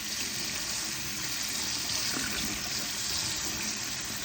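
Steady rush of running water from a tap, continuous and fairly loud, with a faint rattle underneath as canned chickpeas are rinsed.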